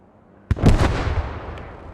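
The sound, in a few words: anti-tank guns firing in a video game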